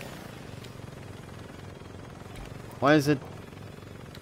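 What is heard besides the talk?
helicopter in the video game Saints Row 2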